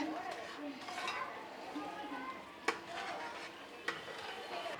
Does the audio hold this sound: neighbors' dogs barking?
no